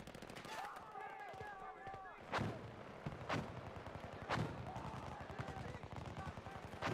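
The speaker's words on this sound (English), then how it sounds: "Where are they shooting at?" Gunfire in the shooter game Halo: a few sharp, loud shots spaced about a second apart over a busy background of scattered firing, with faint chatter and whistling tones mixed in.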